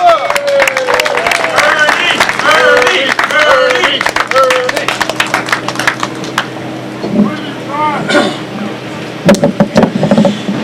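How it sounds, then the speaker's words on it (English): A crowd applauds, a dense patter of clapping that runs for several seconds and thins out, with voices talking over and after it. "let's give a round of applause for Ernest Hancock."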